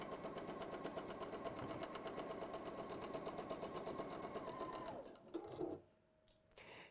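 A sewing machine stitches quilt strips in a steady, fast mechanical whir with rapid needle ticking, running continuously and close up for about five seconds before it stops and a few handling clicks follow.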